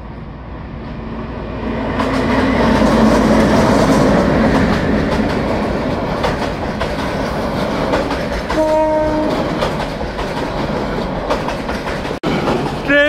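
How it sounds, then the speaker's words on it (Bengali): A train runs through dense forest on the Sreepur–Rajendrapur rail section toward Mymensingh, its loud rumble and rhythmic clatter of wagons rolling close by, with a horn blast near the end. "ট্রেন যাচ্ছে ময়মনসিংহের দিকে"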